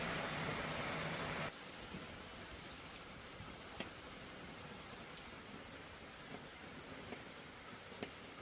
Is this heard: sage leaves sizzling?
yes